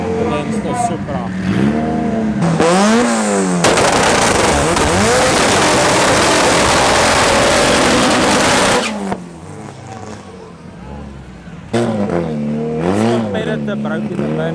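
Drag racing cars, one a Toyota Supra, accelerate hard at a regional meet at Tarlton International Raceway, with loud rising engine revs, a long roaring full-throttle run and later gear-change sweeps, while a commentator talks over parts of it.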